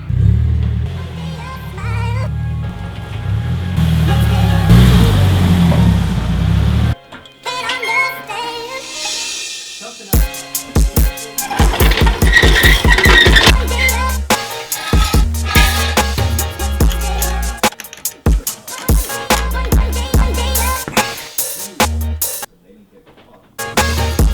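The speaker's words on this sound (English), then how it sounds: "I'm just about to move the car in from there, and then Tommo's going to come up in the R3" A Nissan S14 is driven into a garage, its engine rumbling close by with bursts of revving and a run of rapid mechanical pulses partway through, broken by short quiet gaps.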